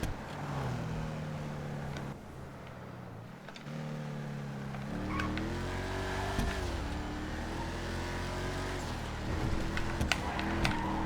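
A Declasse Mamba sports car from a video game drives down a street, its engine note climbing and dropping through repeated revs and gear changes, loud and close throughout.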